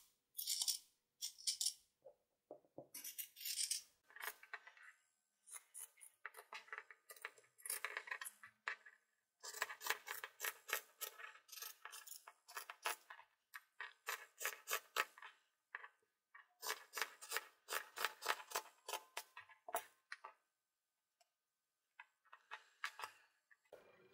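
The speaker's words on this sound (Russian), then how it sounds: "Вырезаю 2 детали переда, как видите, в зеркальном отображении." Scissors snip through fabric while cutting out mirrored front pattern pieces for a doll jumpsuit, a close, quiet run of crisp cutting strokes in bursts with brief pauses between them.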